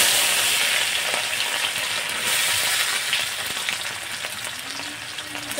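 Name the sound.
dried chillies and whole spices frying in mustard oil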